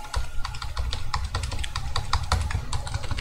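Rapid, steady typing on a computer keyboard in a quiet room, dense close keystroke clicks in an uneven rhythm over a low constant hum, with no voices.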